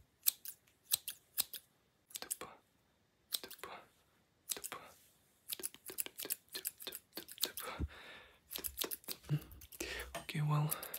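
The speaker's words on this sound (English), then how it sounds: "This is my professional scissors." Sharp scissor snips of professional barber scissors cutting hair come in quick bursts and pauses, very close, with soft whispering between the cuts.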